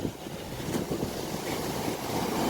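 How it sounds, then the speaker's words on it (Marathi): Rough sea waves at Arnala beach roll in hard, making a continuous, fairly loud broadband roar of surf with no voices over it. "एकदम जोराने लाटा येतात"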